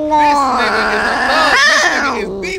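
A loud, close cat yowls in one long drawn-out caterwauling meow that wavers, rises and then falls over about two and a half seconds, heard alone.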